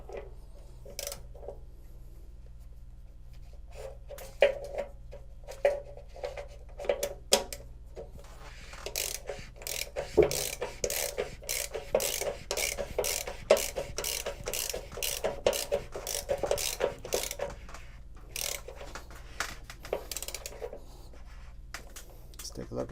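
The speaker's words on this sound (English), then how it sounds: "I'm gonna put the socket back on here and tighten it down all the way" A socket ratchet tightening the anode rod on an A.O. Smith ECT 55 electric water heater gives a long run of quick, evenly spaced clicks, loud and close, with a speaker's voice under parts of it.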